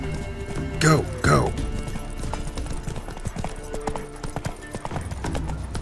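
Steady clip-clop of a horse ridden in the video game Witcher 3: Wild Hunt, hooves drumming in a continuous rhythm over background game music, with two short louder bursts early on.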